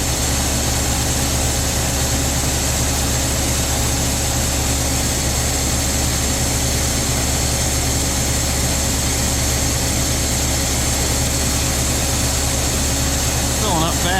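A tractor runs at steady revs driving a 540 grain auger, with a continuous low engine drone and mechanical hum from start to finish while someone talks over it.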